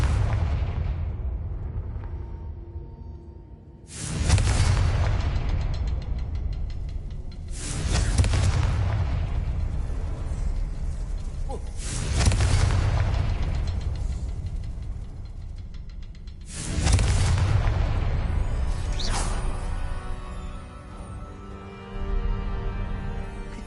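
Confringo fire spells burst in Hogwarts Legacy as four loud, heavy explosions spaced a few seconds apart, each with a booming hit and a long, rumbling decay.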